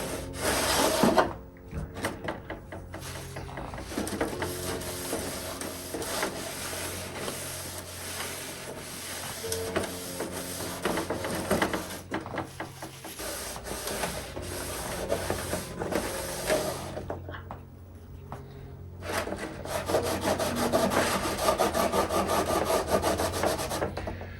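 A cloth rubs and wipes over the hull of a Wagner Modellbau R.M.S. Queen Mary travel agent model ship to clear dust and grime, a steady scratchy scrubbing that comes in close bursts with brief pauses.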